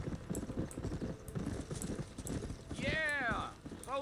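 A horse in Red Dead Redemption gallops in a steady, rhythmic clip-clop of hooves on a dirt trail, with a voice talking over it and a brief whinny near the end.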